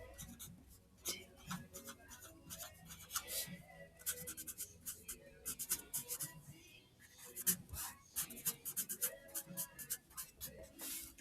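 A pen scratches numbers onto paper in a chemistry lab, close and quiet, in short irregular strokes and bursts separated by brief pauses, with faint room noise and occasional soft speech.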